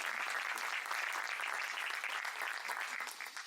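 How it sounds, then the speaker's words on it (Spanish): Audience applause at a book and magazine launch event, a dense, even wash of clapping held steady for several seconds before tapering slightly, with no voices over it. "Un aplauso y muchas gracias, Eduardo, por acompañarnos."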